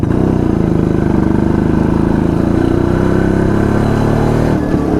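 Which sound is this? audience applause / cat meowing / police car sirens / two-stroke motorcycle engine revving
two-stroke motorcycle engine revving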